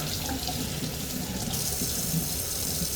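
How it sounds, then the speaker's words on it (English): Tap water pours steadily into a sink as lemons are washed under the faucet, a continuous close, fairly loud rush that brightens slightly halfway through, with no talking. "I'll wash these lemons."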